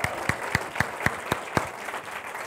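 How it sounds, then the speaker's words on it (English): Audience applause at a business meeting, a steady wash of clapping from a crowd with sharper periodic claps punctuating it roughly every quarter second, fairly distant and even throughout. "Let's give her a hand."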